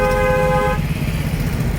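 Car horn blares one steady, loud tone for under a second amid road traffic noise, then the engine and street rumble carry on.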